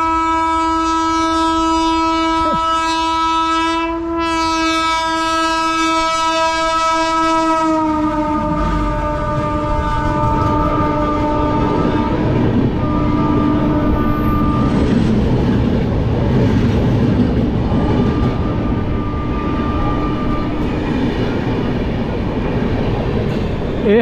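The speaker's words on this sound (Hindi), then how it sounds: "ये हैगी जी ट्रेन अपनी सियालदा अमृतसर एक्सप्रैस, ये अपनी ट्रेन नू क्रॉस करती हुई शहीद एक्सप्रैस नू।" Sealdah-Amritsar Express crossing the 14674 Shaheed Express on an Indian railway line: a long, loud, sustained horn blast for several seconds, then the steady heavy rumble and clatter of passing carriages up close.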